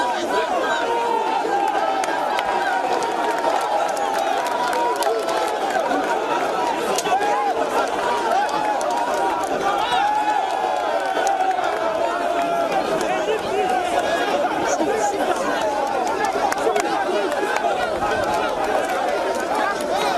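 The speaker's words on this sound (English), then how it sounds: "Security agents and rescue teams had a hard time controlling the crowd who gathered at the site of the collapse" A large crowd at the site of a collapsed school building in Nigeria fills the air with constant agitated chatter and shouting, a dense unbroken hubbub of many voices close by.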